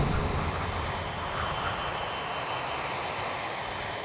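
Damaged Boeing 747 flying on only two engines while losing altitude on approach to Honolulu, a steady, loud, broadband engine roar with no breaks.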